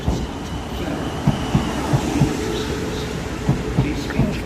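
Train sounds at Basingstoke railway station: a steady rail rumble with periodic soft wheel clunks over the rails, fairly close, with faint station ambience and a distant announcement-like voice beneath.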